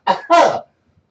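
A person imitates a cough with two quick, rough bursts from the throat, close and fairly loud, then silence.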